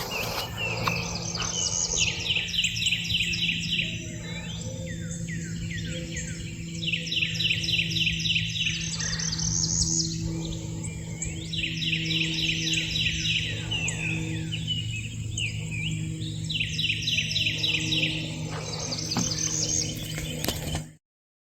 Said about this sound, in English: Lots of birds. Cedar waxwing, tufted titmouse, northern cardinal,